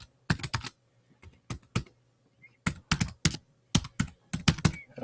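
Rapid keystrokes on a computer keyboard come in uneven clusters of sharp, close clicks with brief pauses between bursts, loud and near against a faint background hum.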